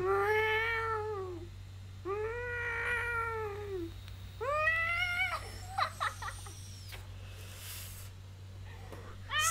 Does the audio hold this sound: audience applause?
no